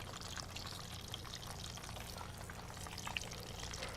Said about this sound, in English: So I put about a half cup of apple cider vinegar in there.